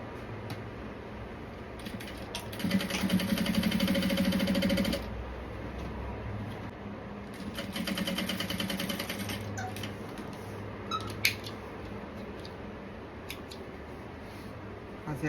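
A sewing machine runs a safety stitch along a pocket seam, heard as two close bursts of fast, buzzing mechanical whirring separated by quieter handling noise and faint clicks.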